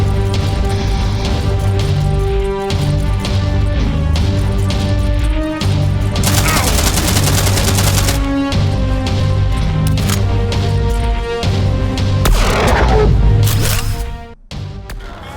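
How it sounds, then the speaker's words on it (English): Rapid, loud railgun fire in the space shooter game SpaceBourne 2, repeated bursts and blasts over a dense game soundtrack and explosions, with no break across the clip. "Wow, that railgun seems overpowered"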